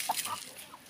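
Peruvian cross chickens among Bhimavaram hens give a few soft, short clucks, faint and close, with a brief low murmur in the background.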